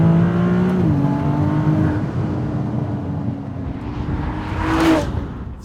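A Ferrari 296 GTS convertible supercar engine revs up, with shifting tones as it accelerates, then swells into a loud rush near the end; no one speaks.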